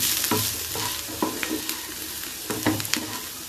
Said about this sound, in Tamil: இந்த ஸ்டேஜில் நாம் மிளகாத்தூள், சாம்பார்த்தூள் ஆட் பண்ணி, சாம்பார்த்தூள், மிளகுத்தூள், நல்லா போட்டு மிக்ஸ் பண்ணிக்கோங்க